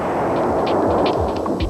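A high-voltage water explosion inside a lab setup, heard as a dense, loud, continuous roar with repeated low booms and crackling bursts throughout.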